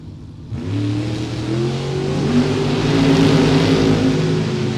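Drag racing cars, a Camaro among them, launch down the strip at a Super Pro drag racing event, rising from a quiet start into a loud, climbing engine roar that builds steadily.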